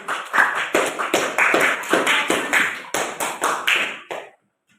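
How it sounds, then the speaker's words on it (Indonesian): A classroom group claps for the first presenting group, a brisk, fairly even rhythm of close, loud hand claps for about four seconds before stopping abruptly into silence. "Kita berikan tepuk tangan untuk kelompok pertama."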